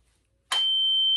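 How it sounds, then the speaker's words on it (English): A single sharp metallic clack from the spring on a Morris G-5 magneto on a 1984 Harley-Davidson Shovelhead, followed immediately by a steady high electronic tone that holds to the end. "The clack is the spring on the mag."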